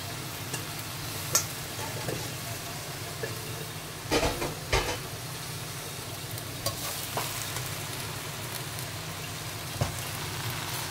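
Kangkong, water spinach, being stir-fried in a pan, a quiet continuous sizzle with scattered scraping and stirring clatters, a brief cluster of louder knocks midway.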